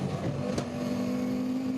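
Onboard at the Nürburgring in a low-slung KTM GT-style race car, the engine drones at a steady high pitch throughout, loud and close, with a brief sharp transient near the start.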